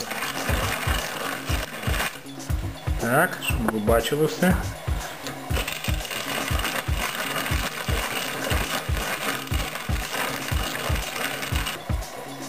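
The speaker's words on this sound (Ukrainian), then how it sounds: "Перший раз я пропустив пшеницю через млинок." A hand grain mill grinds wheat with a steady, rhythmic crunching clatter, each turn of the crank audible as a regular beat, while someone briefly speaks.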